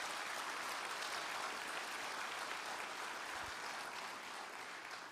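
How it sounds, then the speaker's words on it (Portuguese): Audience applause at a live talk, a steady wash of many hands clapping at moderate distance, sustained for the whole stretch and tapering slightly at the end. "para pensar o que você está aplaudindo"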